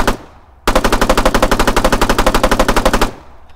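Spar 16 5.56mm rifle in Arma 3 firing a rapid automatic burst of about two dozen evenly spaced shots over roughly two and a half seconds, loud and close, preceded by a single shot.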